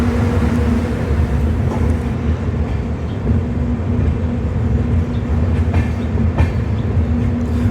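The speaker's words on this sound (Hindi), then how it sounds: "अब हम चल चुके हैं घाटियों की ओर, जहां हमारी ट्रेन घाटियों पर चढ़ाई करते हुए" A train hauled by a WDG6G diesel locomotive climbs into the hills near Haflong in Assam, giving a loud, steady rumble with a low droning hum and faint rhythmic wheel clatter, heard alone without voices.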